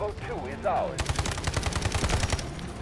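Rapid automatic gunfire from the video game Delta Force, played on the Garena version: a dense, steady burst of loud shots begins about a second in and keeps going, after a brief stretch of other game sounds.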